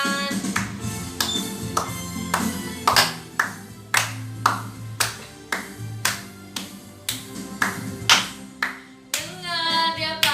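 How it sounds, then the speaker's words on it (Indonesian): A church congregation claps in a steady rhythm along to a worship song at a Sunday service, with sharp, evenly spaced claps over faint music and a singing voice near the end. "Yuk, tepuk tangan."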